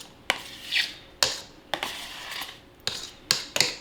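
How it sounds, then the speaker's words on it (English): Spoon scraping and stirring Cool Whip icing in a bowl, close and fairly quiet, with several sharp clinks and scrapes at an uneven pace. Nobody speaks. "We're going to mix it around."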